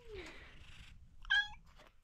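A barn cat on a farm lets out a short, loud, close meow over low rustling background noise, with a fainter mew just after.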